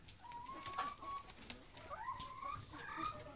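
Free-range Rhode Island Red and H&N hens cluck and murmur on a farm during egg collection, several soft, rising calls overlapping at moderate distance against quiet background noise.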